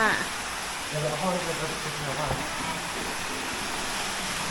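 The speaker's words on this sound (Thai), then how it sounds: "นี่เขามีน้ำตกด้วยนะคะด้านหลัง" A waterfall behind a popular check-in spot on Koh Lanta makes a steady rushing roar, with people talking briefly over it near the start.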